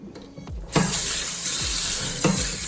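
Red seedless grapes are rinsed in a colander under cold running water, with a steady, close splash and hiss from the tap and a few soft bumps as the fruit is handled.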